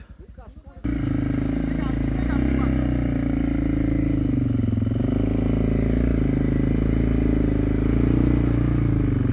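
Dirt bike engine running continuously on a mountain trail with a stream in Romania, TKC 80 tyres, a steady loud drone with a rising rev near the start after a brief quiet moment, while people talk over it.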